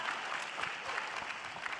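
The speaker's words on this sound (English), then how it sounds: "We'll get a round of applause for that one." Audience applause at an LCS Finals qualifier esports match between C9 and TLAW, a steady, dense wash of clapping from a crowd that holds for the whole short stretch.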